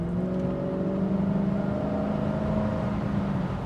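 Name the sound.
Cadillac Allanté engine sound while driving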